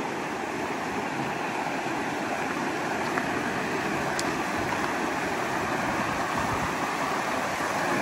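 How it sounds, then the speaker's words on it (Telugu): Steady rushing river water at Elbow Falls near Calgary, Alberta, a dense continuous roar of flowing water over rocks, close and unbroken throughout with no voices. "ఈ వాటర్ సౌండ్ అయితే నాకు చాలా అంటే చాలా నచ్చింది."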